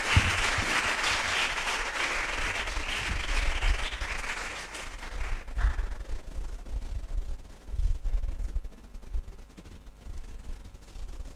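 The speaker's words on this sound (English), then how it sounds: "please welcome them with a round of applause" Dense clapping from a crowd at a barbecue competition awards, loud at first and then thinning into scattered claps before fading out.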